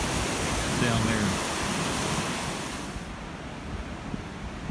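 A rising creek running on a farm, a broad, loud, continuous rush of water close by, mixed with wind buffeting on the microphone and dropping slightly toward the end.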